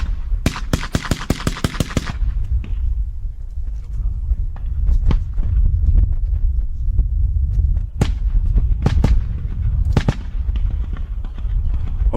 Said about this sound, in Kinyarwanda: umwanzi yaryohewe cyane no kurasa